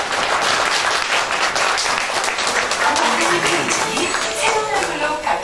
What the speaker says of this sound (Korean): 여러분 박수로 맞아주세요.